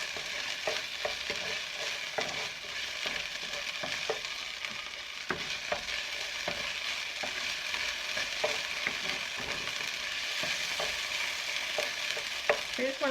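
Ginger and garlic sauté in a pan for a beef stir fry with fried rice, giving a steady close sizzle broken by regular scraping clicks of a utensil stirring throughout. No voices are heard.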